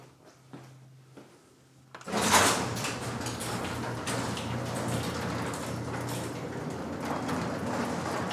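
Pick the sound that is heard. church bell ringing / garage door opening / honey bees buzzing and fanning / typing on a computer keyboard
garage door opening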